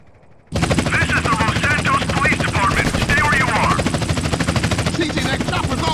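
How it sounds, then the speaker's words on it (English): A police helicopter in GTA San Andreas thumps loudly with a steady rotor chop while bursts of rapid gunfire rattle beneath it and in-game voices shout over the noise. "CJ, that chopper's all over us. Hit it!"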